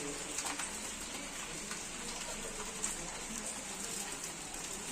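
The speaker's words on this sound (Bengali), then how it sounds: "আর বাইরে সেরম বৃষ্টি পড়ছে দেখো কত সুন্দর বৃষ্টি পড়ছে" Rain falls outside in a soft, even hiss that stays constant throughout, heard from a distance, with faint bird calls scattered in the background.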